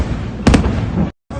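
Iranian missiles exploding as they get past Iron Dome defences, heard as a couple of sharp, loud blasts close together over a rumbling background, with a brief dropout in the sound near the end.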